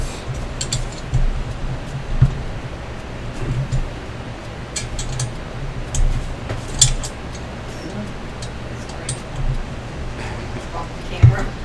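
Screws are tightened during a computer rig build, giving faint intermittent ratcheting clicks and small metallic clinks beneath a person talking throughout.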